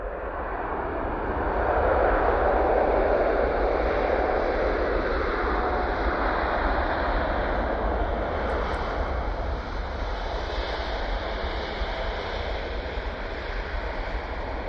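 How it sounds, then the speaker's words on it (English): A Boeing 777 arriving at Manchester Airport roars steadily overhead with a broad, sustained jet engine rush that swells slightly, then holds, heard from the ground at a distance. "First arrival back at Manchester. And a 777."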